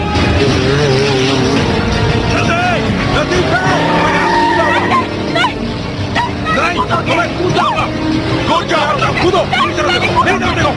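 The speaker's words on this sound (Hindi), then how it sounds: "सर, एक अनजान गाड़ी इनका पीछा कर रही है।" A car chase in a Fast and Furious movie, with engines roaring and tires squealing under dramatic music and urgent voices, loud and busy throughout.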